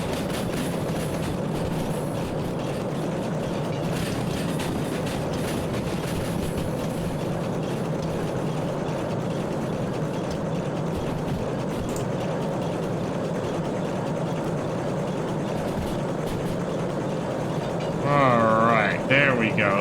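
A steady rumbling train in the video game Derail Valley runs continuously with a low mechanical drone, faint clatter throughout, and a brief burst of voice-like sound near the end.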